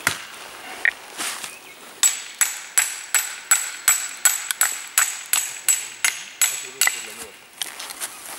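An axe driven by a hammer splits firewood at a bivouac camp, making a steady run of about eighteen sharp, ringing metallic knocks spaced roughly evenly, close by, with a few scattered taps at the start.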